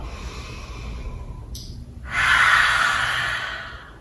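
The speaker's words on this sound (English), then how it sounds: "breathing the breath out fully through the mouth" A single long, audible exhale through the mouth during a supported chair yoga practice, preceded by a quieter inhale, close and breathy, rising then slowly fading.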